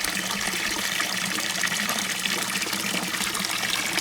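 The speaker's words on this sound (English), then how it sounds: "We got some pretty good water flow." Water runs steadily through an aquaponics tank holding tilapia, a constant close trickling rush that stays level and unbroken throughout.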